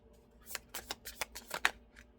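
Tarot cards are shuffled by hand in a quick, uneven run of soft riffling slaps and snaps, close and quiet, with no talking.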